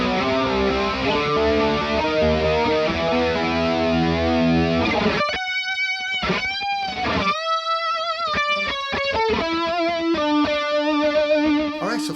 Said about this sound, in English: So we have the overdrive going into the chorus.